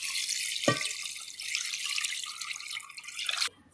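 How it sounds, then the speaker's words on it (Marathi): Running tap water pours steadily over 1 kg of mutton being washed for biryani, a broadband rushing splash with one sharp knock near the start, then cutting off abruptly near the end. "आणि भरपूर पाणी टाकून मी धुवून घेणार आहे"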